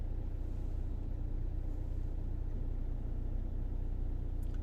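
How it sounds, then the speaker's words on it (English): Cars sit in gridlocked traffic in central Paphos, Cyprus, at night, giving a steady low engine rumble and road hum that stays even throughout, moderately quiet, with no talk. "Gridlock traffic in central Paphos."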